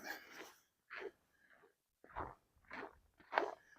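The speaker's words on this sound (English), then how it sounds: "Crunch, a little crunchy today as we walk" New boots crunch underfoot on a walk downtown in Regina in December, with about five close, uneven steps separated by short pauses and no talking.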